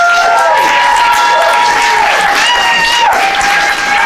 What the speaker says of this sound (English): Let's give a big round of applause for our playwrights tonight